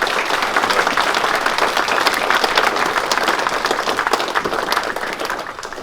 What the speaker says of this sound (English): can we just start by giving a great big round of applause to Claire?